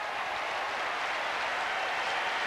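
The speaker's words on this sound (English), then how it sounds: "No wonder the Australian camp are applauding that." Steady, diffuse applause from a player's camp in the stands at a professional tennis match, a continuous even wash of clapping heard from a distance with no talk over it.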